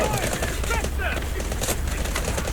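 Rapid gunfire from the mobile shooter Delta Force Mobile crackles in dense bursts with quick sharp reports, near and loud, running almost the whole time beside brief chirpy effects.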